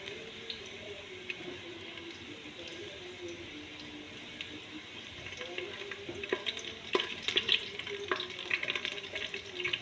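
Onions frying in oil until brown for kabsa: a soft, steady sizzle that grows busier and crackles more toward the end, heard close with no talk.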